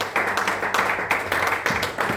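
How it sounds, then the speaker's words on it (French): A church congregation at an Easter celebration claps together in steady rhythmic bursts, a dense, close, continuous patter of many hands. "Acclamons pour le Seigneur."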